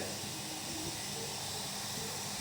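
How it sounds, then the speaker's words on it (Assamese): One cup of sugar and two cups of water boil in a pot, making a steady, unbroken hiss that continues evenly before cutting off abruptly. "এতিয়া এইখিনি উতলিব দিছোঁ ভালদৰে।"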